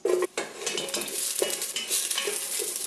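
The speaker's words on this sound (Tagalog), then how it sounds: "Mainit na yung oil. Ilagay ko na ang red onion." Red onion dropped into hot oil for a Filipino salmon head soup, a bright steady sizzle with spoon stirring and clinks against the pot, close and loud.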